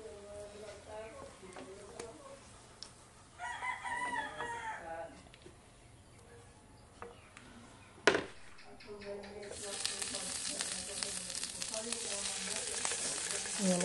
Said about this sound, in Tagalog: Iinit ko lang guys yung paksiw natin.